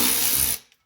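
A ratchet works on the oil pan bolts of a 1985 Mercedes 300D, a rapid close clicking burst lasting about half a second, then stopping with one faint tap after.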